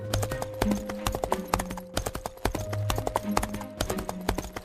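Horse hooves clip-clop in a steady, loud, close rhythm as a rider approaches a border, with a faint tonal background and no talking.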